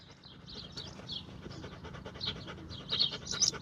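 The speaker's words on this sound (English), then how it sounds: "She's just a retriever that has a ton of energy" Chesapeake Bay retriever, an energetic female, panting steadily at close range in short rapid breaths, with faint chirps in the background.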